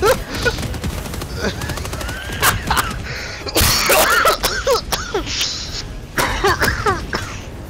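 A heavy gun firing in Helldivers 2, irregular loud bursts and sharp cracks over a chaotic backdrop of explosions and whistling effects, close and punchy, with no speech.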